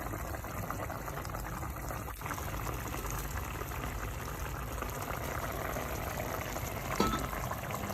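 Braising liquid for spare ribs bubbles steadily in a pot, a constant busy simmering hiss with a couple of faint clinks, close by and uninterrupted.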